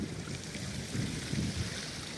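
Rainwater runs off two farm fields after a heavy downpour, a steady, soft rushing and gurgling of flowing water heard from nearby, with no voices.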